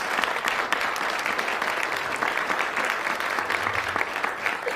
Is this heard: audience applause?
yes